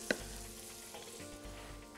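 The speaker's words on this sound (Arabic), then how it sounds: "حاجة بسيطة من البصل حمرهم هنا" Onions frying in a pan for a shrimp bisque hiss with a soft, steady sizzle, a quick clink of the stirring utensil at the start and faint scraping as they are moved about.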